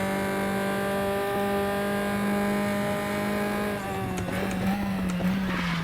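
Tatuus F4 open-wheel race car in a sim at Red Bull Ring, its engine holding a loud, steady, buzzing high drone that dips slightly in pitch toward the end, with crackling bursts near the close; no speech.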